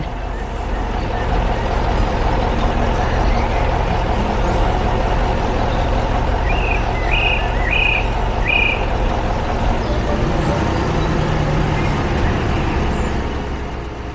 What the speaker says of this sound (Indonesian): Sekarang giliran ekskavator kuning yang datang. Mesinnya sangat kuat untuk membantu pekerjaan di kebun.